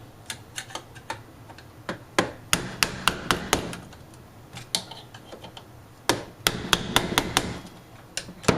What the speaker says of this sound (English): Finish them with the bigger screwdriver.